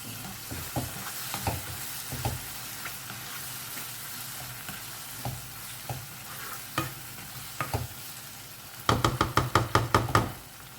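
A spoon repeatedly clacks and scrapes against a pan while oysters are stirred into a simmering kingfish curry, irregular knocks over a soft sizzle, ending in a quick run of sharp taps.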